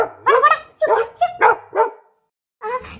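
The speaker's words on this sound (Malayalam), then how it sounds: "ഇതാ ഈ പട്ടി വരുന്നേ" A dog barks close by in a quick series of about five loud barks, a short pause, then one more bark.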